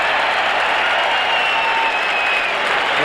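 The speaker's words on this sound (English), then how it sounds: "The fans here are cheering about something that was announced." Stadium crowd at a Detroit Lions at Green Bay Packers football game roars and cheers in a steady, broad wash of noise that holds at a constant level throughout.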